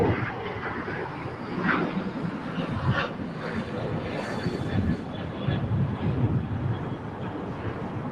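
Japan Airlines Boeing 787 landing on the north side runway at a busy international airport: a rumbling, broadband jet roar heard from a distance, steady throughout with slight swells, mixed with outdoor ambience.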